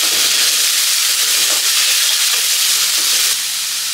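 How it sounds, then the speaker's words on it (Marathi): Chopped onions fry and get stirred in hot oil with mustard seeds and cumin, giving a loud, steady sizzling hiss throughout with faint scraping of stirring; no one speaks. "तर कांदा आपल्याला 1 मिनिटापर्यंत हलकासा परतवून घ्यायचा आहे।"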